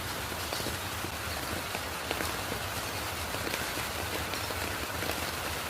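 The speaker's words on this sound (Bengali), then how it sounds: "তো বৃষ্টির শব্দটা খুব ভালো লাগতেছে" Early-morning rain falling steadily on a rooftop garden of potted lemon, rose and butterfly pea plants, a dense, even hiss with faint scattered drop hits and no talking.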